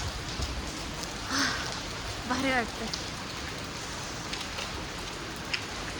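Rain patters steadily on surfaces at moderate, fairly quiet level while a person speaks briefly over it.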